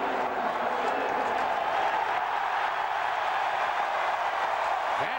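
Crowd at a Pirates–Cubs baseball game at a Chicago ballpark cheering and applauding, a broad, steady wash of distant clapping and voices that holds at an even level for the whole stretch.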